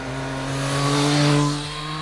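Triumph Street Triple RS 765 triple-cylinder motorcycle engine revs freely with a smooth, strong tone that rises and then eases off over about two seconds, loud and close.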